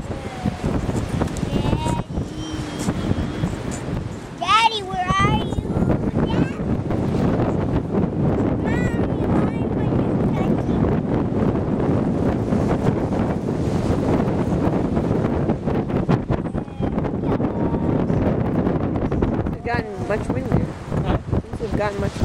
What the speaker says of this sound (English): Gotten much windier